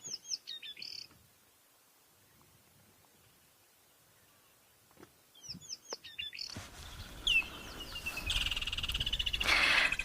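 Bright morning birdsong, chirps and calls in short bursts against a quiet outdoor backdrop, getting busier and denser toward the end, with rhythmic croaking mixed in.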